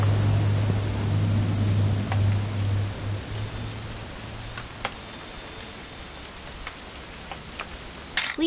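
Steady rain in a video game, What Remains of Edith Finch, patters on a surface with scattered sharper drips, over a low hum that fades after a few seconds.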